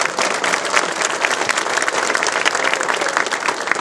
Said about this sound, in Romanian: Hai să-l încurajăm cu un rând de aplauze.